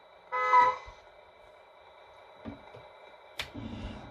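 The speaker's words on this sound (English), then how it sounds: "We can change that to a town urban horn." Town urban horn setting on a Tamiya Mercedes Actros 3363 RC truck with an MFC 03 sound module: one short honk near the start, then quieter mechanical clicks and a brief burst of electronic sound later.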